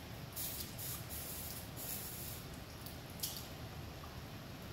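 A hot bimetallic strip hisses and sputters as it is held in a running stream of water, a steady close spray-like hiss with a few brief bursts, no talking.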